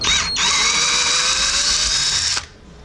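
A power drill runs a tap through metal on a turbo fabrication job for an LS-swapped Camaro, a steady loud whine lasting about two seconds after a brief pause, then stopping abruptly.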